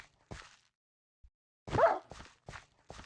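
A hostile dog in the Minecraft video game snarls and yelps in short bursts, one louder growl followed by three quick barks, with gaps of silence between.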